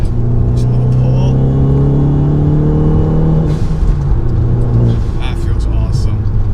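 A Fiat 500 Abarth with a tuned turbo 1.4 engine pulls hard from inside the cabin, a loud low droning engine note rising in pitch before easing off, with a voice speaking briefly over it.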